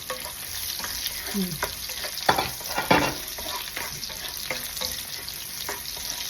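Onions frying for adobong nokos: a constant close sizzle in the pan, with a few louder scraping stirs of the utensil and no talk.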